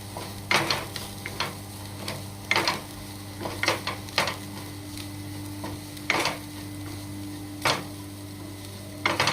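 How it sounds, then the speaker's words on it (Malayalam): Turmeric and chilli powder are stirred in a frying pan: a spoon scrapes the pan in irregular, fairly close strokes, roughly a dozen scrapes over a steady low kitchen hum, with no talking. "മഞ്ഞൾപ്പൊടി ഇട്ടിട്ട് അത് നന്നായിട്ട് മിക്സ് ചെയ്യുക"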